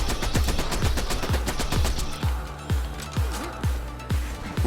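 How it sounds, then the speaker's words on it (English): Rapid bursts of gunfire from weapons in the Borderlands 2 video game, a dense run of loud shots repeating steadily, then spacing out into slower, separate bangs with low thumping tails. "I'm going to shoot a lot of bullets out."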